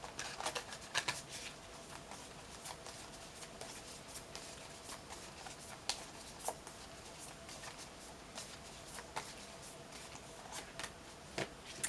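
A tarot affirmation card drawn from a deck, with quiet crisp shuffling and flicking of cards in irregular light bursts, close and soft, no one speaking.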